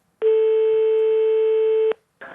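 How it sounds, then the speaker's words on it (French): A telephone rings at a French town hall: one long, steady electronic ring tone lasting nearly two seconds, loud and clean, then cut off with a brief rustle after. "Ça sonne à la mairie."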